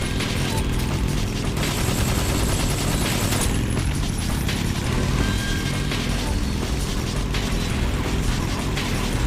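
Heavy gunfire in a Metal Gear Solid game played on maximum difficulty: continuous rapid bursts and clattering mechanical shots, loud and sustained for the whole stretch.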